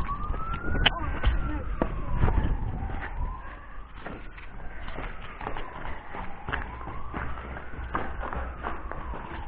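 Police car siren wailing in a rising and falling cycle, moderately close and sustained, over traffic rumble and scattered knocks, with no clear talking.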